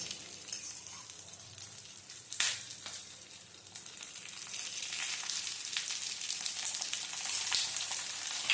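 Prawn paturi fries in mustard oil on a flat pan over a low gas flame, giving a close, steady crackling sizzle with a brief louder spurt and stirring scrapes, with no talk over it.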